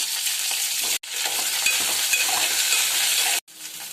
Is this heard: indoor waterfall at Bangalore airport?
no